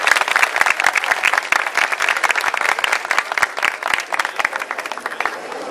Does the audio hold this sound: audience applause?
yes